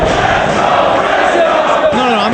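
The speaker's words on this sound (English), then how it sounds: "let's listen to that crowd again." A live crowd at a Ring of Honor Final Battle wrestling event roars and cheers continuously, dense and loud throughout with no break.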